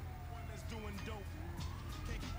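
A police car siren in GTA 5 Online, a wailing tone that sweeps up and down and repeats under a low engine rumble, steady and moderately loud the whole time.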